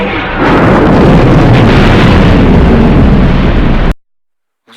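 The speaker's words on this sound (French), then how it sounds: "Vous entendez cette explosion?" A huge, roaring cinematic film explosion sound effect rumbles continuously for several seconds at full loudness, then cuts off suddenly into silence.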